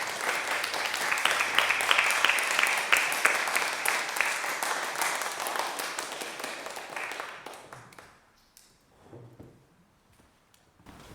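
A congregation applauds steadily for about seven seconds at a Matariki and new member Sunday service, then the clapping fades out to near quiet with a few faint knocks.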